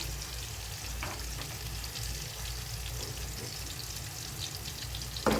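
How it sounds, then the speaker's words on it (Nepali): Green chillies, ginger and garlic frying in hot oil, a steady soft sizzle under faint background hum, with a few light stirring clicks and a brief clatter near the end. "अब यसमा हालेँ मैले हरियो खुर्सानी, अदुवा, लसुन, अनि फोरन तेल पाकिरहेको छ"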